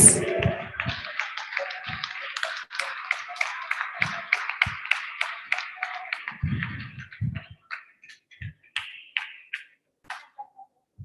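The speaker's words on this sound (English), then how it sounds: "Can I hear your applause?" Scattered clapping and taps in an online Zoom meeting, a patter of individual claps that builds briefly then thins out into sparse, isolated hits near the end.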